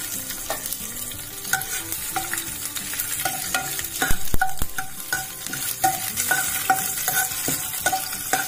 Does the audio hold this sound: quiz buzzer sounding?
no